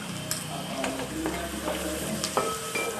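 Chillies and onions sautéing in a pan with a steady, close sizzle, broken by occasional stirring scrapes and light clinks, with no voices.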